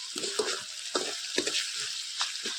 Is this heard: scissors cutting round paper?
no